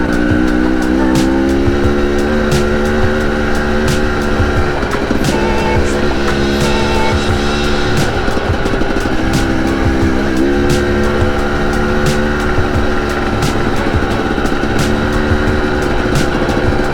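A 2021 Husqvarna TE 300i two-stroke dirt bike engine runs loud and close the whole time, its revs rising and falling with a continuous buzzing drone.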